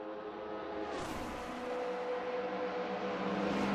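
Race cars accelerating on track in a racing game broadcast of the 6 Hours of Le Mans endurance race: a rising engine whine sweeps up as cars pass, layered steady engine drones holding beneath, moderately loud with no talk.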